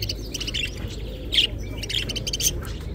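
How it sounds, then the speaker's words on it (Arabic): Lovebirds in a Baghdad bird market chirp and squawk in a steady busy chorus, with several sharper, louder calls standing out over the low crowd murmur. "عيني هاي طيور الحب."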